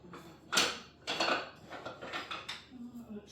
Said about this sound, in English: And then we're just going to give a stir here.